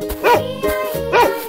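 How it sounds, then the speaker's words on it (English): A dog barks twice, two short, clear woofs about a second apart, close and loud against a quiet background. "Dog."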